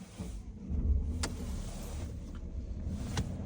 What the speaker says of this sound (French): Comme ça, vous entendez le bruit du démarrage,